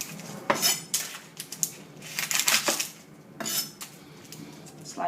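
A knife cutting through the ends of an onion on a board for onion bhaji, giving a few sharp, close taps and knocks amid clattering kitchen utensils, with no voices.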